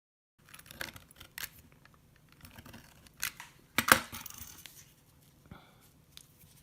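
Leather for a wallet being cut, a few short crisp snips and scrapes spaced irregularly, close and fairly quiet with no talk.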